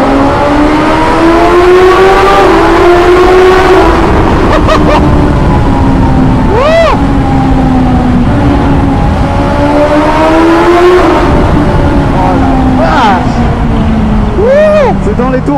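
A 2021 BMW S 1000 XR motorcycle's race-derived engine revs hard inside a tunnel, loud and close, climbing through the gears in rising sweeps with echoing reverberation, while a rider talks over it.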